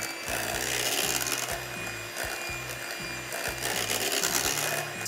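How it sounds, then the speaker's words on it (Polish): Electric hand mixer whipping mango cheesecake batter in a bowl, a steady loud buzzing motor with rhythmic pulsing as the beaters move through the mixture, no voices. "Jeszcze chwilę będę ubijał mikserem, aby połączyły się obie masy."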